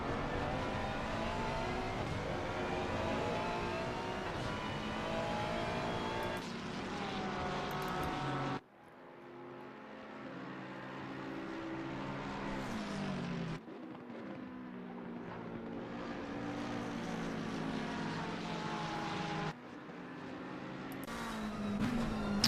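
GT3 race cars lapping Zandvoort in a racing game, a continuous droning engine roar with rising and falling revs and abrupt cuts between cars, steady and fairly close throughout.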